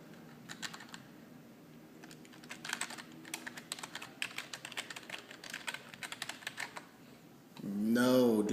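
Login details typed on a computer keyboard in a steady run of quiet, close key clicks, with a brief louder voice-like burst at the very end.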